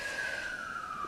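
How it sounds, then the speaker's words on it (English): A siren sounds outside, a single sustained wailing tone that slowly drifts downward in pitch, steady and moderately distant over low background noise, with no talking. "With a siren outside."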